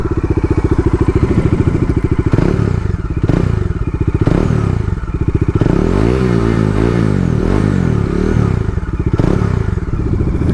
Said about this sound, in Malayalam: ഈ ഒരു ഡബിൾ ബാരൽ എക്സോസ്റ്റിൻ്റെ ഒരു എക്സോസ്റ്റ് നോട്ട്